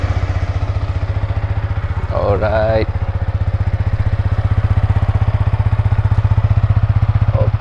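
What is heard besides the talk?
Yamaha MT-15 single-cylinder motorcycle engine idling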